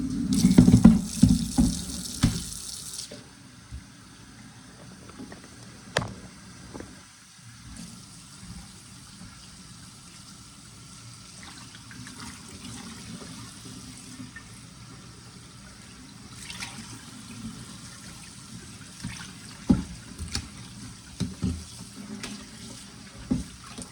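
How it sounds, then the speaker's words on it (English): Water runs steadily from a kitchen tap into a sink, with a louder splashing burst at the start and occasional clinks and rustles of rinsing pieces of pork throughout. "So I'm gonna rinse these under the water."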